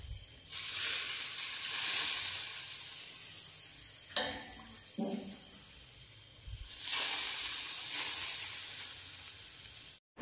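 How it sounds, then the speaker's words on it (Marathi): Food frying in a pan gives a steady, fairly loud hiss that carries through the whole stretch, with brief sharper bursts and a short easing partway through. "हे बघ असं छान मस्त चरचर आवाज पण येत आहे"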